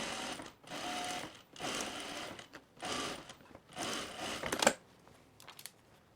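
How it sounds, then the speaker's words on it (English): A sewing machine runs an easing stitch along a shirt sleeve seam line in several steady bursts of stitching separated by short pauses, close and clear, with no talking. "I'm gonna add an easing stitch just inside my seam line"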